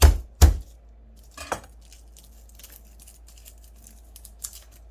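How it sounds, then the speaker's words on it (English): A garlic clove is smashed on a kitchen board with two heavy thumps up front and a third softer knock, followed by faint scattered clicks and rustles, close and without talk. "First, I need a clove of garlic that I'm going to"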